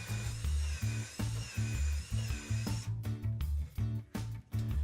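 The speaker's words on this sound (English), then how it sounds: "drilling the pilot hole for the threaded insert" A high-pitched drill whines steadily while boring a pilot hole for a threaded insert, then shifts to rougher grinding bursts, over a rhythmic low thumping beat in the background.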